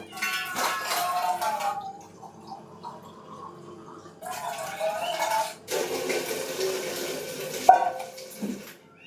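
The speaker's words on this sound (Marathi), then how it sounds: "आता मी ह्याच्यामध्ये पाणी टाकून ठेवते" Water splashes and pours in a few separate bursts into a pot of burnt, stuck-on rice in a home kitchen, with brief quiet gaps and a light metallic knock.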